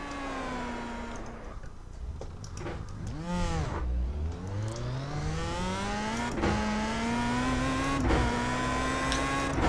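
A Mazda MX-5 race car in a video game revs high with engine pitch swooping down through gear changes and climbing again, loud and continuous with no talk.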